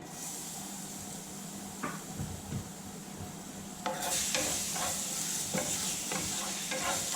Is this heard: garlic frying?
yes